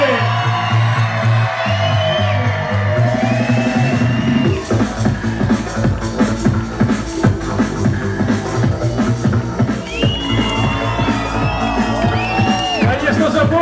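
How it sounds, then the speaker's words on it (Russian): Crowd at a youth festival stage event cheering and whooping over loud music, a dense sustained roar with shouts rising and falling throughout, voices mixed in. "Конечно же, бурные аплодисменты!"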